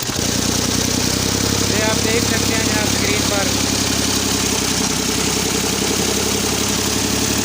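A Ghazi tractor engine runs loud and steady in second gear while driving a rotavator, a constant mechanical rumble with rattling layers, as someone talks over it.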